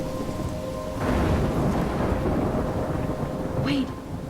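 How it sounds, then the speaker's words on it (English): A thunderstorm with heavy rain in the video game Life Is Strange: a steady wash of rainfall with deep rolling thunder swelling midway, loud and close, with no speech. "I'm trapped in a storm?"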